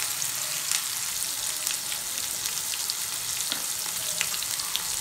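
Ground turmeric, chilli and roasted cumin sautéing with chopped tomato and salt in a hot pan for fish kalia, a steady close hiss and crackle of frying with occasional stirring scrapes, no voices.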